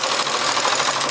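A knitting machine carriage runs one row from right to left with tension set at 1 while making an English rib slipper, a steady close mechanical whir and rattle running evenly throughout.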